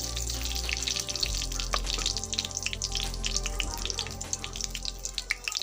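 Whole cumin seeds frying in hot oil as they are stirred, a loud close crackling sizzle with rapid popping and occasional scrapes of the spoon, no speech.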